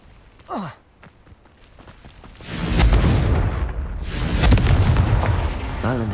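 A Confringo fire-blast spell explodes in Hogwarts Legacy, heard as loud, rumbling, sustained blasts that swell and roll on after a brief vocal sigh near the start.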